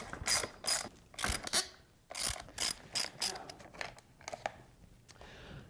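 An Allen wrench turns in quick ratcheting clicks while motorcycle hand guards are taken off, close and crisp, in several short bursts with brief pauses between them.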